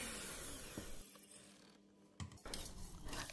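Electric mixer whirring steadily through cake batter, a continuous mechanical drone with a few brief clanks and a louder burst near the end, close and fairly quiet, no talk.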